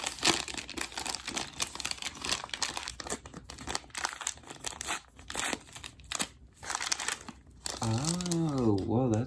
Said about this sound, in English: we've got one more of these bags to open up